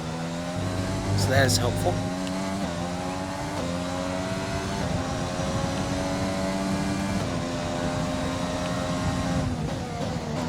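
Formula One car engine from the F1 2020 racing game, a steady loud droning whine with shifting pitch through turns and a brief tire squeal early on, playing under continuous commentary from someone speaking.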